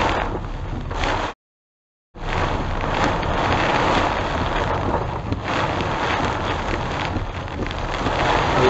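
Heavy rain and gusting wind during a tornado-warned storm in northwest Houston, a dense continuous roar of downpour and wind buffeting the microphone, broken by a brief cut to silence near the start.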